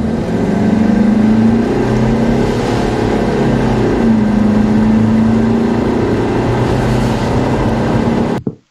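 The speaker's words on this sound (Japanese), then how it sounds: "時速0キロから60キロまでの加速タイムを測ります。" A Toyota Hiace turbo van accelerates from a standstill to 60 km/h, its engine droning loud and close, with the pitch climbing, dropping at a gear change and rising again before cutting off at the end.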